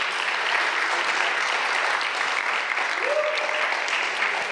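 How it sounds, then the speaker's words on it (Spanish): A church congregation applauds steadily after a pastor's call to praise God, a dense, even wash of many hands clapping throughout, with a brief voice rising faintly near the end. "Denle un aplauso al Eterno"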